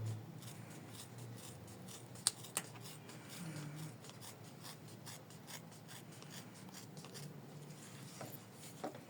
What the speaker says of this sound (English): next we are trimming both layers together with 3mm seam allowance